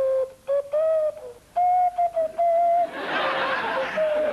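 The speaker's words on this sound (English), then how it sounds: "Whistling, too. Not with a voice" A man whistles a tune in a 1999 interview, in short, clear, bright phrases, then breaks off into a burst of breathy laughter and noise.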